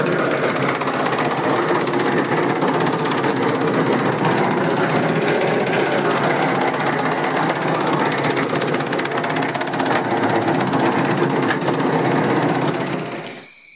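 A chaff cutter chops napier grass into fodder, running as a loud, steady, dense mechanical clatter for about thirteen seconds before cutting off abruptly at the end, with no talk over it.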